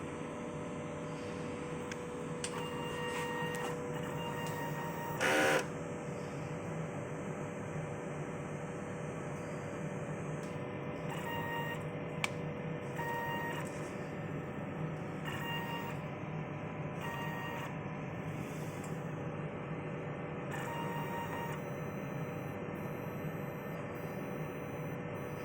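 An inkjet printer runs a head cleaning cycle, with a steady mechanical hum and whirr throughout, intermittent clicking and carriage movements, and a brief louder burst near the middle.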